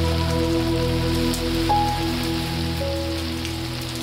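Steady rain patters down on a wet, buggy wilderness river, a constant, fairly loud hiss with a faint tonal hum running underneath.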